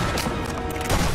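Gunfire from the sniper video game Sniper Elite V2 is dense and continuous. It sounds like a loud, clustered burst of shots and impacts with no clear gaps and no talk.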